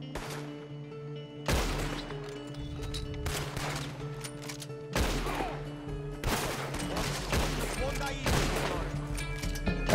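Loud gunshots ring out in Red Dead Redemption 2 during a shootout with the Del Lobo gang at Thieves Landing, several sharp cracks spaced a few seconds apart with echoing tails, over steady game ambience and someone talking.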